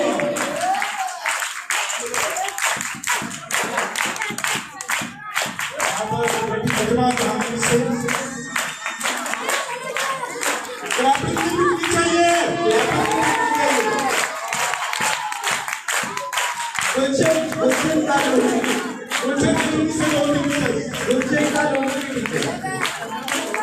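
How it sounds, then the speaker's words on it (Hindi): At a school outreach gathering in Daska, an audience claps as teachers come onto the stage one by one. Loud, uneven clapping mixes with voices and tonal sound, surging in bursts with brief dips. "अब जहांगीर के टीचर एक एक करके आने स्टेज पे तालियां बजाओ"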